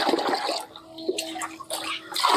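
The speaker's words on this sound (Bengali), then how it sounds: "আমি 2 লিটার পরিমাণ ফ্রেশ জল নিয়ে নিলাম।" Fresh water, about two liters, poured into a container to dilute soaked banana-blossom water for plant fertilizer, giving a bright, splashy pour that comes in bursts with short pauses, close and fairly loud with no talking.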